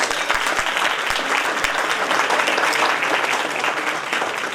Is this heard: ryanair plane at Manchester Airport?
no